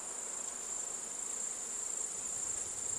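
Bees buzz around Langstroth hives stacked four high in a Tasmanian road cutting, a faint, continuous, distant drone with no one speaking.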